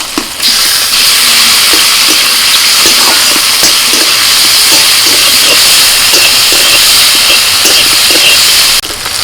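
Shrimp with chopped onion frying in mustard oil: a loud, steady, close sizzle and hiss that continues throughout, with faint stirring clicks underneath and no voices.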